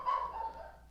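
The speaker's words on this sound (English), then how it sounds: "if you hear my dog barking in the background" A single short dog bark sounds in the background, faint and somewhat distant, with no one talking over it.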